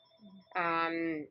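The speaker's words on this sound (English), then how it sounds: "sorry about the phone" A telephone rings once indoors during a spoken interview, a short, fairly loud electronic tone lasting under a second after a brief soft murmur.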